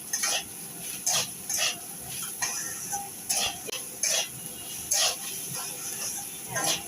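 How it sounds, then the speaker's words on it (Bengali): A utensil scrapes and knocks in a pan of carrots frying for semolina upma, rhythmic strokes roughly every half second over a faint, steady sizzle. "এবার নাড়াচাড়া করবো ভালো করে"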